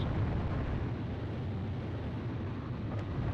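Bombing explosions over a burning city in the combat flight game Ace Combat Zero: a steady, dense low rumble of blasts with no distinct gaps, loud and continuous throughout.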